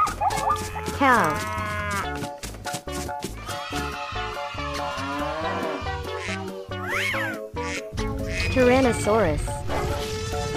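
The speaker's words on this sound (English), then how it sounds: "Cow." A cartoon cow moos among animal sounds, drawn-out lowing calls set over steady loud music, with bright cat-like sweeps mixed in.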